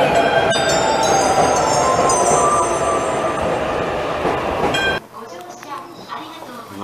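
A train pulls into Omiya station in Saitama with a loud rumble, rail noise and squealing wheels, then cuts abruptly to a quieter stretch; people talk over it.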